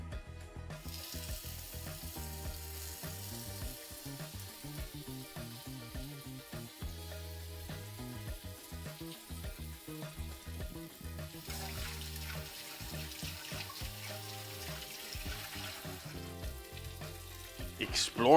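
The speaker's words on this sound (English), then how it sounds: "pork going in the pan" Pork sizzles and fries in a pan, a faint steady crackle and hiss running throughout beneath louder tonal background music, with no voices.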